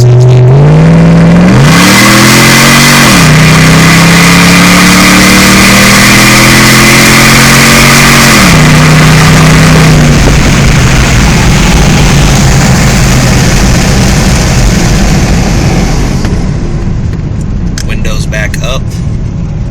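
A loud, raspy 2006 Jeep Grand Cherokee engine revs through a custom side exhaust in rising surges, then settles into a rumbling drive with the windows down, close and dominant throughout.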